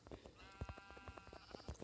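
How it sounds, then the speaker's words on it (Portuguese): Sheep in the Minecraft video game give faint, wavering bleats among quick clicking hits, quiet and close. "Começar já matando essa ovelha pra conseguir lá."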